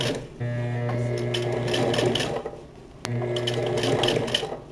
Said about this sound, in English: A bit of top stitching now.